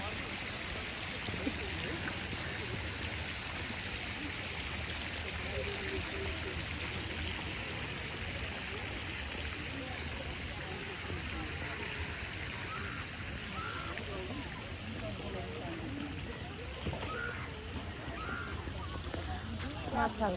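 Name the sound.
flowing water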